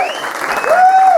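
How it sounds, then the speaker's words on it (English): Brief applause from a comedy audience for comedians Lexi and Gary during an adult-only stand-up show, with a voice speaking over the clapping. "Give Lexi and Gary a round of applause."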